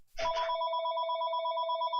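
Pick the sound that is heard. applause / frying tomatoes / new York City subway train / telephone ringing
telephone ringing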